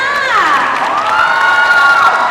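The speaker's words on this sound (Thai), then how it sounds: "ขอเสียงปรบมือดังให้ดูหน้าหน่อยค่ะ" Cheering crowd at a Regalos seventh-anniversary event in Thailand: a steady wash of crowd noise with bright shouting and whooping voices rising over it, close and loud throughout.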